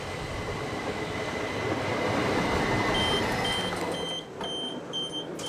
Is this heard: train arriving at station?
yes